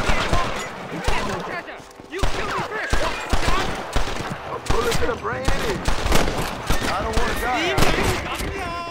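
Dense, rapid gunfire crackles nonstop, with bursts and single shots overlapping loudly throughout, like a chaotic firefight, in the video game Red Dead Redemption.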